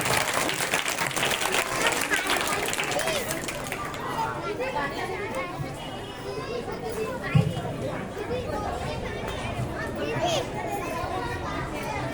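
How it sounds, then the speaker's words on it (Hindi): Audience at a school Independence Day celebration claps loudly at first, then the applause fades into chatter and children's voices, with a brief thump partway through. "जोरदार तालियां हो जाए"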